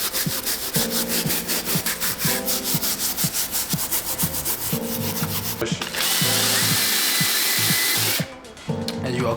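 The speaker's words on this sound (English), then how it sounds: "We're gonna dip this in the solution and then start scrubbing." A stiff wire-bristle brush dipped in cleaning solution scrubs a pair of Nike Air Yeezy 2 Platinum sneakers, making loud, close, rhythmic back-and-forth rasping strokes that continue steadily with a brief pause near the end.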